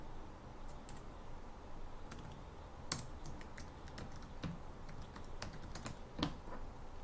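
Text being typed on a computer keyboard, heard as quiet, irregular keystroke clicks in a steady patter, close but soft, with no talking.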